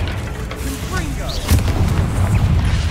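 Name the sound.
Confringo explosion spell from a Harry Potter video game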